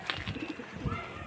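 Pigeons in a rooftop loft, kept by a pigeon fancier, coo in a short burst of soft low murmurs with a brief flutter near the start, close by.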